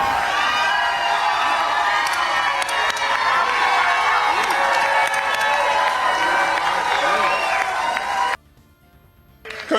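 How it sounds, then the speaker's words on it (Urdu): Supporters of Zohran Mamdani cheer and shout as a loud crowd during his victory speech, a dense continuous roar with whoops that runs for about eight seconds and then drops abruptly to near silence. "ان کے حامیوں نے شور مچانا شروع کر دیا"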